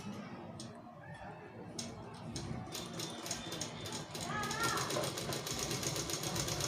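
A sewing machine stitching straight vertical lines on fabric, with a steady mechanical whir and rapid ticking that grows louder toward the end, running under a voice.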